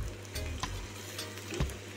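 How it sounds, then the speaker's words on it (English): Tinned ackee stirred into saltfish frying in a pan, a soft sizzle under a few scraping stirs and light clatters of the spoon, no voices. "after cooking up the saltfish for a little bit, I'm gonna add the ackee"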